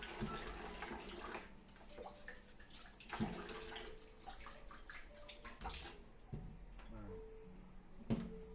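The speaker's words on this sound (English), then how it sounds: "Wash these twice." Mushrooms being washed in a basin of water for a chicken and miso tofu soup, with sloshing and splashing throughout, a few clatters and a short tonal run-off near the end, with faint speech mixed in.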